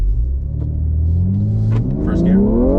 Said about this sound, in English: That anti-lag, you don't expect it.